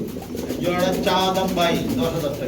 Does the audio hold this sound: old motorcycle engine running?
no